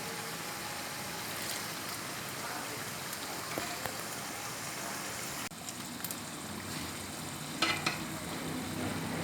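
Cooked chana dal being stirred with masala in a pan for a lauki chana dal, with continuous soft sizzling and scraping over several seconds and a few sharper knocks near the end.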